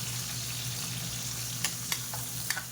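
Onions sautéing in a pan for tidtad, a Filipino pork belly blood stew, give a steady low sizzle broken by a few soft scrapes of stirring.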